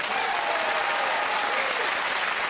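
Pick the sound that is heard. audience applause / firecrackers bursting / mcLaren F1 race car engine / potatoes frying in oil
audience applause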